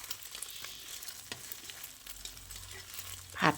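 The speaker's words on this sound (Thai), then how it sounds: "แล้วก็ขยี้ขยี้ไข่แบบนี้นะคะ ให้ไข่สุก" Eggs scrambled and frying in a pan for Thai egg fried rice, a soft steady sizzle with light scraping and a sharper burst of clatter near the end, close by with no talk.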